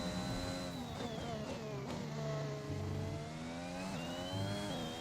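Formula 1 car engine in the F1 2021 racing game, a loud continuous high-pitched whine that rises with revs and drops sharply at each upshift, repeating several times alone without talk.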